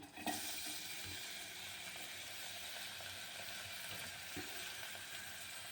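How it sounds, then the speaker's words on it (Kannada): Finely chopped onions frying in oil for an egg sambar, a steady soft sizzle throughout, fairly quiet and close, with a faint clatter near the start. "ಈಗ ನಾನು ಸಣ್ಣದಾಗಿ ಈರುಳ್ಳಿ ಹೆಚ್ಕೊಂಡಿದ್ದೀನಿ ಅದನ್ನ ಇದ್ರೊಳಗಡೆ ಹಾಕ್ತೀನಿ"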